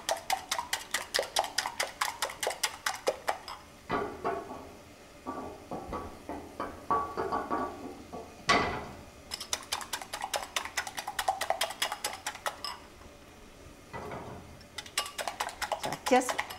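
Eggs whisked in a bowl for a Thai stuffed omelette, a fork or whisk tapping quickly and steadily against the sides in several bursts with short pauses, heard up close with a voice speaking in the gaps.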